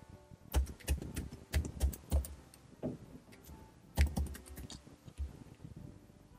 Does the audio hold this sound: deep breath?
no